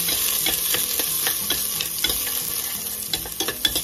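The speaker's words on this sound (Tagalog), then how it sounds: "ilagay na natin ang bawang" Garlic fries in hot oil in a pan, making a bright continuous sizzle close by with repeated scraping and stirring clicks from a utensil, and no voices.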